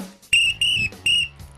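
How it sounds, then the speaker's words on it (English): A gym teacher's whistle blown in three sharp, shrill blasts, each lasting about a quarter second with short gaps between, loud and close, with low background murmur underneath. "Debbie, pick up my whistle."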